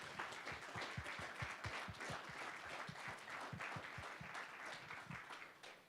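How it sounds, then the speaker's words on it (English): Sustained audience applause at a school district community celebration, honoring the superintendent, with dense steady clapping filling the room and a few sharper individual claps standing out throughout. "let's give a round of applause for our superintendent."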